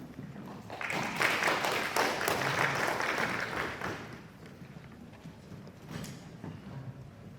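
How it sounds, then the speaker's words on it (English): Audience clapping at a supply chain keynote speech, a dense burst of applause for about four seconds that thins out and fades, with a brief last flurry near the end. "Let's give them a round of applause."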